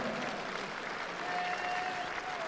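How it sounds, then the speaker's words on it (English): Boxing arena crowd applauding steadily after a WBO Intercontinental Cruiserweight title fight, a dense, sustained wash of clapping filling the hall throughout. "Ladies and gentlemen, please a round of applause for the gallant"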